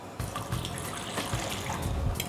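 A glass of water poured into a bowl of pasta dough mixture of beaten egg and olive oil, a steady liquid gush and trickle lasting about two seconds, fairly close and alone.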